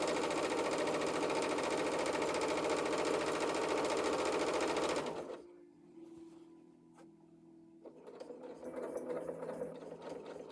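A sewing machine runs loud and close while sewing an apron, stitching continuously for about five seconds, then stops to a quieter pause before a softer, slower run.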